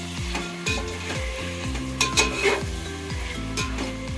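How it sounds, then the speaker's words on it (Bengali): Chicken sizzles in a pan for yakhni white biryani, with a close, steady frying hiss broken by repeated stirring scrapes and light clinks of utensil on metal. "খুব ভালো করে আমি একটু চিকেনটা ফ্রাই করে নেব।"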